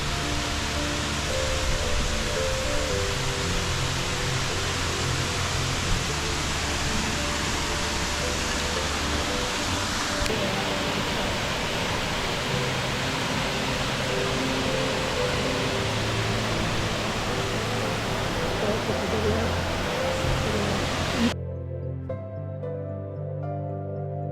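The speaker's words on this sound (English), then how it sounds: "We were pleasantly surprised by the size of the next waterfall as we rounded the bend in the trail" A large waterfall in the Stony Brook State Park gorge in New York roars as a loud, steady broadband rush of falling water, close and continuous throughout, then drops abruptly to a quieter background near the end.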